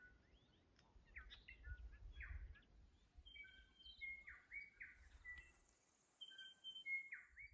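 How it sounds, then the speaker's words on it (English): Several birds sing in a lively chorus of bright chirps and whistled phrases, fairly close, in New Zealand, over a faint low rumble of background noise. "Take a moment to listen to how the birds sing"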